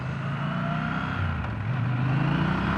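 A Triumph Scrambler 1200 motorcycle with a strong low-end pull accelerates, its steady engine drone rising in pitch close to the rider, with no talk over it.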